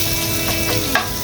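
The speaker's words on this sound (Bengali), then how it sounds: "এখন আমি এই তেলের ভিতরে পেঁয়াজ কুচি দিয়ে দিচ্ছি।" Chopped onion dropped into hot oil for a Bengali fish malai dish, giving a steady close sizzle with a brief sharper burst near the end, alone without voices.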